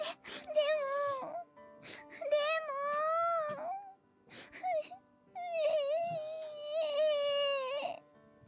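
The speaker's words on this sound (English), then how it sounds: "Cinnamon starts to sob uncontrollably" A young female character in the Nekopara visual novel game sobs uncontrollably, with high wailing cries in several long breaking bursts and gasping pauses between them, close and alone.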